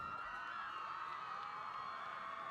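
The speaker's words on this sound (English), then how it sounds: "if you hear the noise up here, that is once again another homecoming crowd" A homecoming crowd at a PSAL varsity high school football game, Eagle Academy II at New Utrecht, makes a steady, distant wash of cheering and shouting that holds at an even level throughout.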